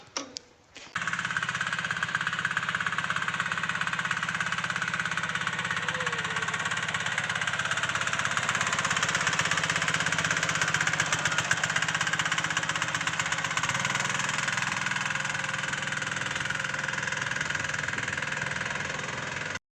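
A tractor engine idles and runs in a village setting, a steady loud chugging drone with rhythmic knocking that holds throughout, shifting slightly in tone toward the end.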